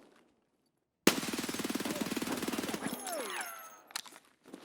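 Rapid automatic gunfire in Escape From Tarkov, a loud burst of evenly spaced shots lasting about two seconds, followed by ringing, whooshing tails and a few scattered later sounds.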